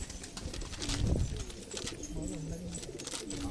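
Low, throaty cooing from high-flyer pigeons rolls on in a loft, with faint talking and rustling mixed in.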